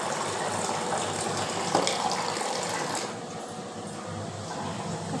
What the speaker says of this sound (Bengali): এবার জল দিয়ে দেবো সামান্য,